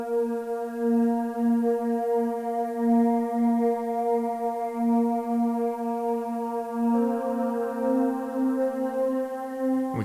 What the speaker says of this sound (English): this little motion note that I sampled from a Korg Triton